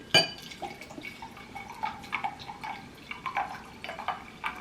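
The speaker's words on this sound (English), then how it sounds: "I'm pouring this up some wine right quick." Wine is poured into a glass at a table during a casual eating session, with a clink at the start, then a steady trickle and small splashy drips that continue throughout at close range.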